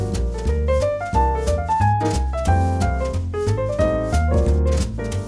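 A bebop line with a sharp 9 over a dominant chord, played as quick, steady piano phrases with bass accompaniment, loud and clear with no talking.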